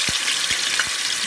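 Salmon fillets fry in a pan for a Belizean hudut, giving a steady close sizzle broken by a few soft stirring scrapes, with no voices.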